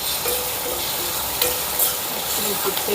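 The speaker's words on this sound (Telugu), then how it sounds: "మనం వేసిన వెల్లుల్లి రెబ్బలు ఉల్లిపాయి ఒక నిమిషం పాటు వేపుకున్నాం కదండి చక్కగా వేగాయి ఇప్పుడు ఇందులోనే పచ్చిమిర్చి తురుము కూడా వేసేసుకుందాం" Garlic cloves, onion and grated green chili fry loudly in a pan while being stirred, giving a close, continuous sizzle broken by scraping and stirring noises.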